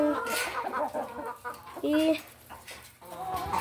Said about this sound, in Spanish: Bueno, ya les mostré las gallinas.